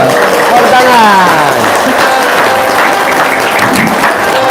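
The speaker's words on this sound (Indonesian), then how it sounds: "Tepuk tangan bagi kita semua insyaallah." Audience applause at an Indonesian religious talk with songs, a steady dense wash of clapping filling the whole stretch, with a voice, singing or talking, faintly heard over it.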